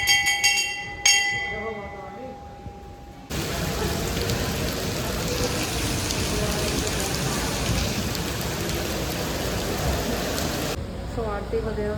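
Heavy rain pours down outside, a loud, steady broadband hiss that starts abruptly and holds for several seconds before cutting off, with quieter background sounds before and after.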